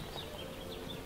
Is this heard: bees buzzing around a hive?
yes